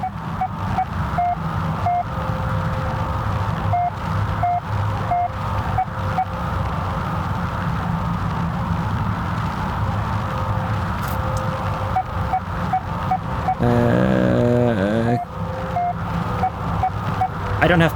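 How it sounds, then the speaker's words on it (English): Penumbra: Overture game radio speakers give off short, repeated electronic beeps in an irregular pattern over a constant low machine hum. A burst of warbling static comes in near the end. "That beeping coming from the speakers, maybe this somewhere."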